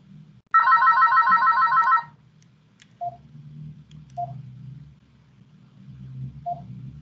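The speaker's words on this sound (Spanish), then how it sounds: "está aquí sonando el teléfono ahora mismo" Electronic telephone ringer burst, a loud warbling trill lasting about one and a half seconds, followed by a few faint short beeps over a low background hum in an otherwise quiet room.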